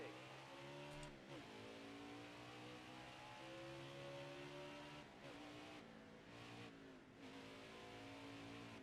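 A NASCAR race car engine in the NASCAR Heat 4 video game drones steadily at high revs for the whole stretch, with brief dips and surges as it lifts and gets back on the throttle.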